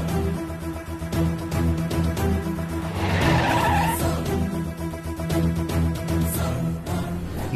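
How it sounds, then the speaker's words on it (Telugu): A car skids to a stop with tires screeching on the road, in a Telugu TV drama scene. The screech builds to a peak around the middle and rides over loud, steady background music. "ఏందే కారు ఆపిందే?"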